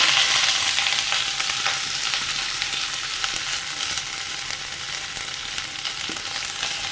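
Shallots, garlic and curry leaves fry in coconut oil, giving a steady, loud sizzle with crackling close by. It runs without a break and no one speaks.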